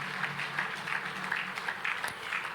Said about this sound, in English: let's do one more round of applause for him.